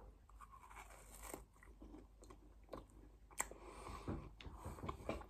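Small crunchy balls bathed in sugar and lemon syrup from Caldas da Rainha are chewed close up, with irregular crisp crunches and clicks of biting, quiet and without talk.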